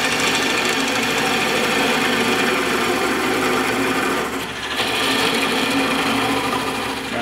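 A lathe tool cuts a concave profile into a spinning wooden bud vase, making a continuous loud rasping and whirring scrape that dips briefly midway and then resumes.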